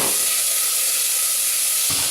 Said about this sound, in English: in goes the onion